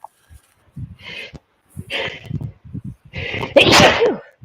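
A loud sneeze near the end, preceded by a few short sniffs and breathy intakes, close by.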